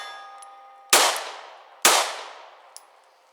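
Two sharp pistol shots from a Springfield Hellcat about a second apart, each ending in a ringing metallic clang off a steel target and decaying slowly outdoors on a range, with a faint later ping.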